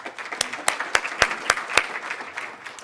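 Audience applause for Tammy Ray at a 2019 Surrey Board of Trade development industry business forum: a room of people clapping, with sharp individual claps standing out in a steady patter that thins toward the end.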